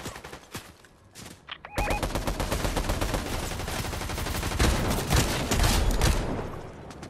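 Video game shotgun fire starts with a few scattered shots, then turns into a long, dense barrage of rapid gunfire. It stays loud and continuous to the end.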